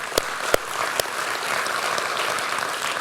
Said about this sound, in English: why don't we give them a wee clap before they start.